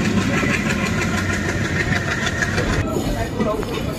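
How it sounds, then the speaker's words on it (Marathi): Konkan Railway general coach rolling at night near Diva station, a steady loud rumble of wheels and engine heard from inside, with a shift in tone partway through. "एक ट्रेन निघालेली आहे ठाण्यावरून बरोबर ॲक्युरेट टायमिंगला"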